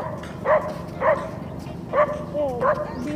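A dog gives four short, fairly close barks spaced about half a second to a second apart, with faint yips between them over a low background murmur.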